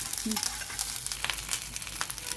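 A close, crackly sizzle of ground spice paste frying in a pan, with irregular popping spatters throughout and no talking.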